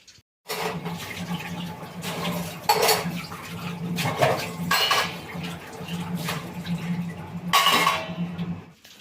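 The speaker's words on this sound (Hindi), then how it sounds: "रात के जो बर्तन हैं उनको फिर मैं अब धोऊंगी" Dishes are washed in a home kitchen under running tap water, with steel pots and utensils clattering and clinking at close range, alongside a steady splash of water.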